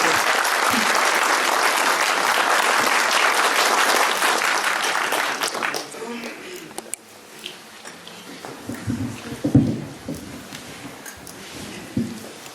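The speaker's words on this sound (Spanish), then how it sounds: "Y un aplauso para el autor." An audience gives a dense burst of applause for the author at the presentation of the book Plantas Maestras by Jorge A. Calero Flores. It fades after about six seconds into scattered claps and room noise.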